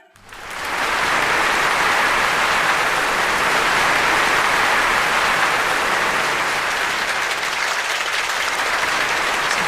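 Thunderous applause from a large crowd swells in within the first second and then holds steady, a dense, loud, continuous roar of clapping with no voices on top.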